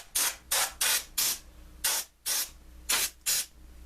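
Compressed air duster hissing in eight short, sharp bursts while cleaning a desktop computer case dust screen: four rapid puffs, a pause, then two pairs, close by.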